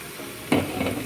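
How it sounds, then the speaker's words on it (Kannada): Chili powder tipped into hot tempering oil, a short sudden sizzle and hiss that flares up mid-clip and keeps crackling softly, heard close with no talking. "ಈ ಒಗ್ಗರಣೆ ಚೆನ್ನಾಗಿ ಆದ ನಂತರ ಅದಕ್ಕೆ ಒಂದು ಸ್ವಲ್ಪ 1/4 ಚಮಚದಷ್ಟು ನಾನು ಮೆಣಸಿನ ಹುಡಿಯನ್ನು"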